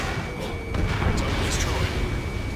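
In the Ace Combat 7 flight game, a missile blast rumbles as a dull, sustained boom beneath a continuous bed of jet engine noise, with radio chatter voices layered over it.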